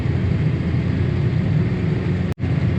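A boat engine gives a loud, continuous broadband roar as the throttle opens, with a brief sharp dropout near the end before the rumble resumes.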